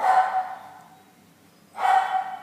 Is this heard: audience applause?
no